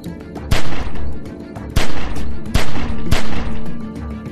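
Loud, close gunshots in The Walking Dead: 400 Days video game ring out as four sharp, evenly spaced cracks, each followed by a brief echoing tail over background game noise.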